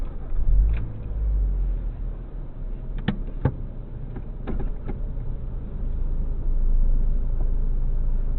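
A car pulls out of a parking bay, its engine a low, steady hum under a few short clicks and knocks inside the cabin, the rumble rising slightly as it moves off.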